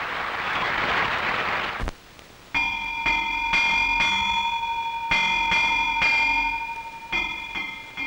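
At dawn a bell rings over a remote island village, struck repeatedly in an uneven rhythm, each clear metallic toll ringing on into the next, after a brief stretch of hissing noise.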